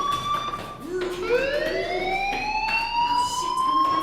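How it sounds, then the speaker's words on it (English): A school fire alarm in the video game Life Is Strange wails with a loud rising tone that repeats and sweeps upward, continuous and prominent. "Hey, do you hear that fire alarm?"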